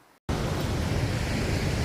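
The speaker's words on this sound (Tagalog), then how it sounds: "sobrang nakaka-relax yung alon ng dagat" Sea waves wash steadily onto the shore of an island facing the South China Sea in La Union, making a continuous broad rush that begins abruptly after a brief moment of quiet.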